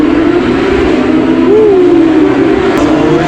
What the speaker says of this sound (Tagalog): nakakarinig ako mga V10 engine